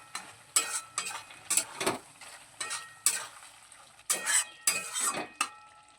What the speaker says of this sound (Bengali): তরকারিটা কিছুক্ষণ ফুটিয়ে নিয়েছি, এবারে একটু নেড়ে ছেড়ে নেব।